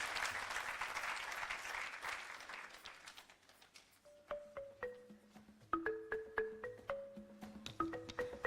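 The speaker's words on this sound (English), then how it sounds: "Another round of applause to the Vice Chancellor." Audience applause for the Vice Chancellor at the opening of the Pan-African Universities Debate Championship in Kampala, a dense wash of clapping that fades over the first few seconds, giving way to a sequence of ringing tones.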